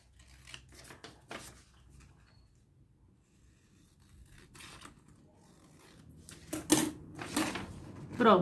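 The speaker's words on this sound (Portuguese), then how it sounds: "eu vou marcar e vou cortar" Scissors cutting around a marked pattern for a small fabric pharmacy pouch, with several sharp snipping and rustling strokes in bursts, separated by quiet gaps and growing louder toward the end.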